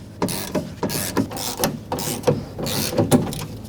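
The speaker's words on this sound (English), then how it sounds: "So 3 and 3, 10mm socket. Just loosen these ones" Ratchet with a 10mm socket loosening window regulator bolts inside the door of a 1997-2004 Dodge Dakota, giving repeated close clicking strokes in a steady rhythm.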